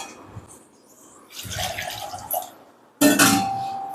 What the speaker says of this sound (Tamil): இப்போ தண்ணி ஆட் பண்ணிக்கலாம்.